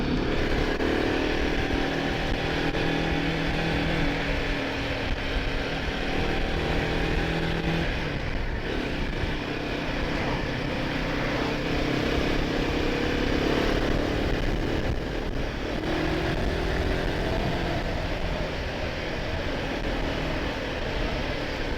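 A Royal Enfield Himalayan 450 motorcycle is ridden in third gear through a tight bend, its engine droning steadily and loudly throughout with constant wind and road noise and small shifts in pitch.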